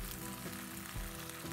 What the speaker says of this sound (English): Saute negi until fragrant and pour the sauce.